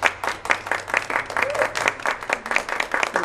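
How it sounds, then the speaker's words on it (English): An outdoor concert audience claps steadily, many hands at close range in a brisk, sustained burst of applause that holds through the whole moment. "Round of applause, folks, for our good friend Steve Ruiz and the folks from Wareham Community Television"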